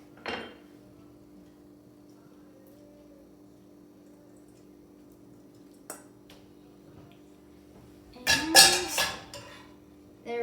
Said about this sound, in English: Now take our pasta and we put it in there.